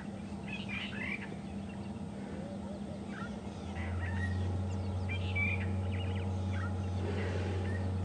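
Birds call on a morning safari drive at Djuma and Arathusa, giving scattered chirps and whistles over a steady rumble of the vehicle's engine that grows louder partway through, with no talking.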